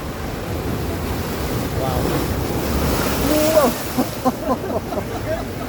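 Pacific Ocean waves roll in along the Bay of Banderas in a steady, broad wash of surf mixed with wind buffeting the microphone. A few faint tonal calls rise briefly over the roar near the end.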